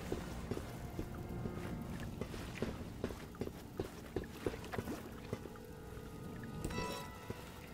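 A boat driven through water in Resident Evil 6, a steady engine-and-water rumble with repeated light knocking splashes and a brief rushing swell near the end.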